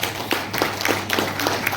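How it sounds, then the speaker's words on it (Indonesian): An audience applauding at a gathering in Batam, a short burst of brisk, fairly close hand claps repeating in a steady patter without speech. "Tepuk tangan dong untuk kita semua."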